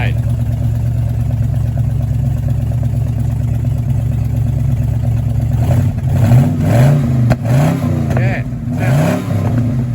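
A Ford P5 LTD's engine idles with a steady low drone, then revs repeatedly in rising and falling bursts near the end, while people chat briefly nearby.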